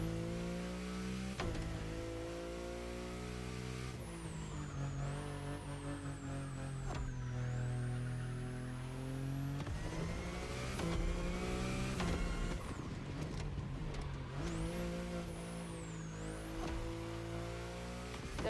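A BMW i8 hybrid sports car drives in The Crew Motorfest, its electric-tinged engine whine climbing and dropping through gear changes in a continuous near hum, with no talking over it.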